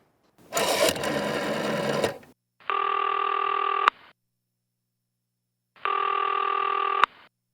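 Telephone bell ringing in a radio play, a long burst followed by two shorter evenly spaced rings with silent gaps between them, loud and close with no talk over it.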